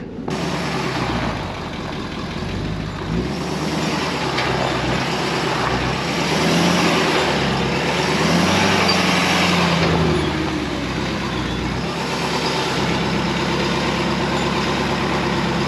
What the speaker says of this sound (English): We got four-wheel drive on, and let's hope that we do not get stuck.